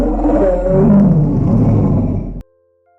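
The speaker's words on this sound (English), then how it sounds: "That was a big roar." Tyrannosaurus rex roar, a loud, deep, drawn-out bellow that swells and then cuts off abruptly, heard alone.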